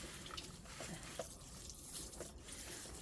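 Water trickles and splashes softly onto a freshly repotted rose primrose in a pot topped with masa grit, a faint steady shower from close by.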